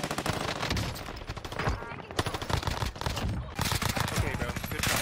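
Rapid automatic gunfire in the video game Warzone crackles in dense bursts with brief gaps, loud and close, and the firing runs almost continuously.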